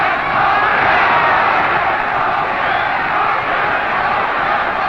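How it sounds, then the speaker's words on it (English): A packed boxing crowd at a 1968 bout roars and cheers at the end of the fight, a loud, dense, steady wall of voices filling the hall. "The whole of this crowd now jumping to their feet and cheering these boys on now."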